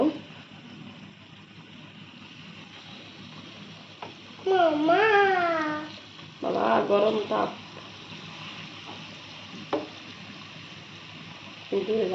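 Banana fritter batter sizzles in hot oil in a home kitchen, a soft steady fry with brief louder bursts as more batter goes in, while someone talks over it.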